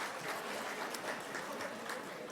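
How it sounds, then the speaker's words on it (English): Audience applause at a gala dinner for State Emergency Service members, a dense steady wash of clapping from a large indoor crowd. "Can we give a round of applause to Jeff and all the SES members,"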